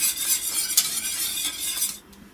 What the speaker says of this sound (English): Now add a tablespoon of unflavoured gelatin. Mix that through.